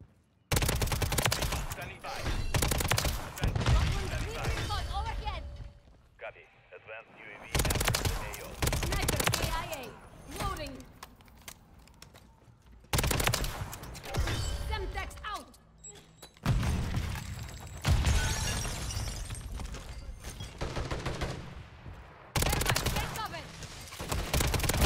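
Uzi fire in Call of Duty MW3 comes in several loud, rapid automatic bursts separated by short lulls, mixed with other game noise and a voice talking between and over the shots.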